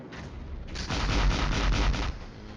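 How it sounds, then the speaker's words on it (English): Heavy artillery bombardment in the Flashpoint Campaigns: Southern Storm wargame: a steady, dense roll of distant gunfire and booms that swells louder after the first second and holds as a continuous barrage. "Now they are bombarding us heavily."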